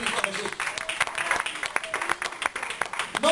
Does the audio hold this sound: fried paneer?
no